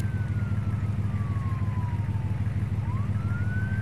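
A police siren wails during a video game car chase, a thin gliding tone that falls slowly and then rises again over a loud, steady engine drone, with no voices.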